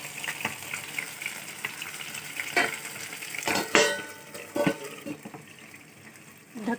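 Chicken frying in oil in a pan, with a soft sizzle, spitting splatters and occasional louder clattering bursts of stirring or utensil contact, heard close up.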